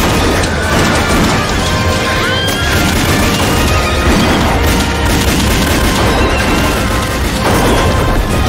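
Firing-squad gunfire in a western film crashes out as a loud, dense burst of booming shots that rolls on with echoing clatter and horse whinnies mixed into the din, with no speech.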